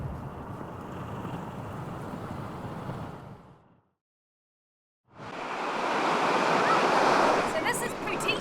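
Ocean waves break and rush up the shore in a loud, steady surf roar. The roar cuts to a short silence midway, then a fresh wave surges in louder and close.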